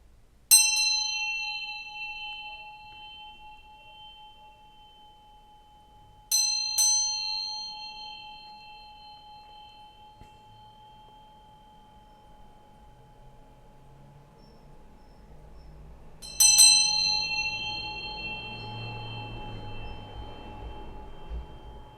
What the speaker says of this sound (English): We're going to ring this bell, so adjust your volume if you need to